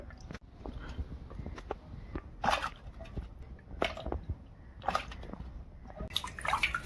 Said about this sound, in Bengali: বন্ধুরা ভালো করে মাছটাকে ধুয়ে নেব